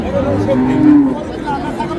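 A Friesian cross calf moos nearby amid a murmur of people talking and general crowd noise at a village cattle market.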